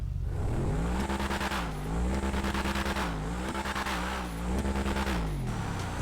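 Adder hypercar, modeled on the Bugatti Veyron, in GTA Online, its engine droning steadily and loud throughout, pitch rising and dipping in repeated waves as it revs and shifts.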